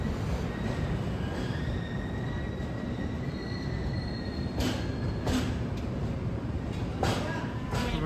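The Howrah Pune Duronto Express pulling into Bhusawal station on Central Railway: a continuous low rumble of rolling carriages, faint high wheel squeals, and several sharp metallic clanks near the end, with no voices.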